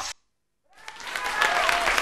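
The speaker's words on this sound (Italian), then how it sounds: "Bravissimo, un applauso per Vanessa Gentile di Frosinone" After a short silence, applause swells from the studio audience of an Italian TV talent show following a contestant's dance performance, building steadily with cheering voices over it.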